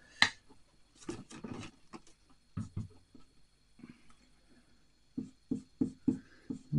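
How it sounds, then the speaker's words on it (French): A drawing is coloured on paper with close, soft scratchy strokes that come in short, irregular bursts separated by brief pauses. No one speaks. "Je vais peut-être le colorier un petit peu."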